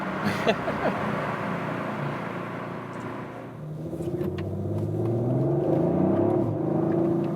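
An Audi RS5 accelerates out of a road tunnel. Its engine builds from a rumbling idle into a rising, sustained roar that grows louder through the second half, heard from inside the car with no talking.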